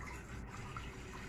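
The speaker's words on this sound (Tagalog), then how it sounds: "lagyan lang natin siya ng tubig" Water from a tap pours steadily into a cooking pot on the stove while lentil soup is being made, a continuous close rushing and splashing fill with no talk over it.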